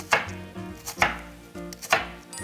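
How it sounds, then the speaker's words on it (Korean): A knife julienning vegetables on a cutting board, thin strips of green onion or similar for a chashu rice bowl sauce, gives four crisp, evenly spaced chops, close and distinct with no voices. "이거를 채를 한번 썰어주세요."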